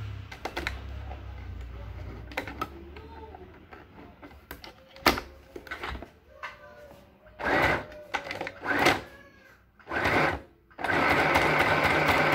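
Sewing machine stitching the shoulder seam of a blouse, running in short close bursts separated by pauses, then a steady sustained run at the end, with faint handling noises between.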